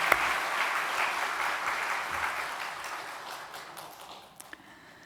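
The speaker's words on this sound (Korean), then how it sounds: "다시 한번 격려와 응원의 박수 보냅니다" A church congregation claps during a Sunday worship service, a full burst of applause that gradually thins and fades out toward the end, with a few last scattered claps.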